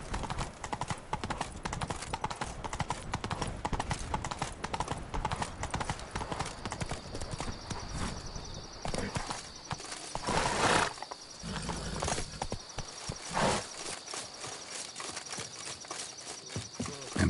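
Hooves of the horse Roach clip-clop at a steady pace in a video game, the hoofbeats clear and close and then fading, with a short whinny and some background game voices.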